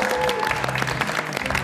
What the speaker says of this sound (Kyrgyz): НТС телеканалында жалпы биздин оператор мырзаларга бир катуураак кол чаап коелучу